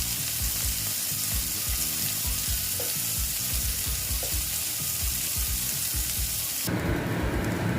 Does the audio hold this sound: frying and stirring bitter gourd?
yes